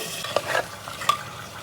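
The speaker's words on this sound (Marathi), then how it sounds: "तर त्याच्यामध्ये सगळं टाकलंय आता मिक्स केलंय" Ingredients are stirred in a pressure cooker with a spoon, giving a few soft scraping and clinking touches against the metal pot over a faint sizzle, close by and with no talk.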